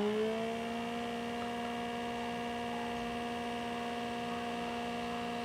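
An electric blackhead vacuum extractor hums on a low power setting, a steady close tonal whine with stacked harmonics that settles in pitch after starting and runs continuously without talk.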